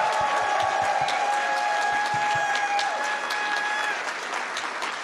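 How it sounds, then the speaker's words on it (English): Audience at a furry convention closing ceremony breaking into loud, dense sustained applause with a few whoops, filling the hall evenly and tapering slightly at the end. "Give yourselves a round of applause."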